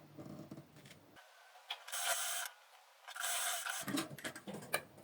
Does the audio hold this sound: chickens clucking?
no